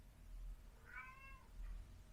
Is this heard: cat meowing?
yes